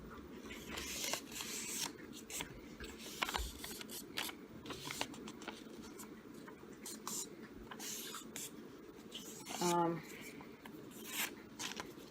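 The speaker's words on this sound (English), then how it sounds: "So you want to fold it diagonally in half." A square of paper is folded diagonally in half to make a ninja star. Soft rustling, sliding and creasing rubs repeat close up, with one louder crinkle near the end, under quiet talking.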